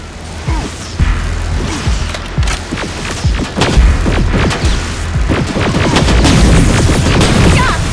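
Heavy gunfire and booming explosions in the Terminator Resistance Complete Edition game, the Annihilation Line campaign, with dense rapid shots and repeated heavy blasts sounding loud and close throughout, building into a sustained barrage.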